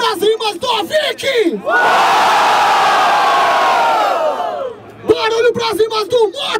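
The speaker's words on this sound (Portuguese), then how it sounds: "Barulho pras rimas do Vicky" A crowd at a rap battle in Barueri erupts into a loud sustained roar of cheering and shouting. An amplified host's voice is heard before and after the burst.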